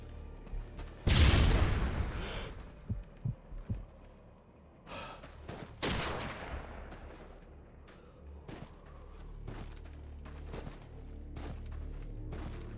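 A frag grenade explosion in Call of Duty Modern Warfare 2 Spec Ops, one loud close blast followed by a second burst and scattered shots and thuds that fade into quieter background action.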